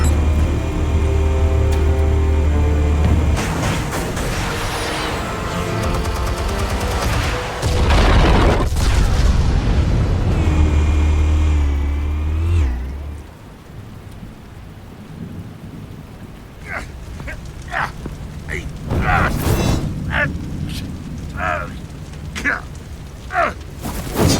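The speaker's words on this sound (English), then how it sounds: "Explosives armed. Fire when ready." A heavy explosion in the Batman Telltale Series game: a long, loud booming rumble with deep low-end roar that fades after about twelve seconds into rain-like crackle and scattered debris clatter, with voices speaking over parts of it.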